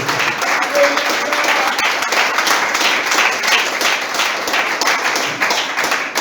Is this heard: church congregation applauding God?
yes